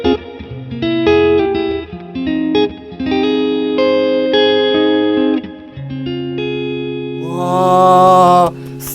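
An electric guitar plays a melodic phrase through a Strymon reverb pedal, notes ringing out with lush, lingering tails, building to a shimmering swell near the end; loud and clear, no talking.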